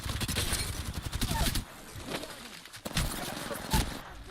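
Rapid bursts of video game gunfire crackle through the first second and a half, then thin out to sparser shots and effects during a tense multiplayer firefight, with a player talking over the action.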